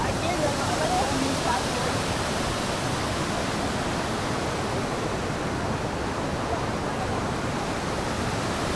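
Bandaje Falls on a trek, a dense continuous rush of falling water, loud and unbroken throughout with no clear gaps.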